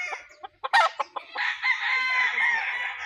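Roosters and chickens at a gamefarm in Mt. Banahaw, Dolores, Quezon: a few short clucks, then a loud, close rooster crow that holds for a couple of seconds.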